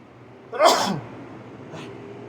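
One sharp sneeze sounds close by, followed by a faint breathy sniff a moment later against a quiet background.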